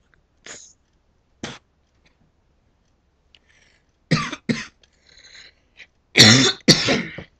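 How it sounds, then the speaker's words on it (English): Several separate coughs spaced out over quiet, ending in a louder pair of harsh, throaty coughs close by. "I got a bit of a cough because it's nearly winter"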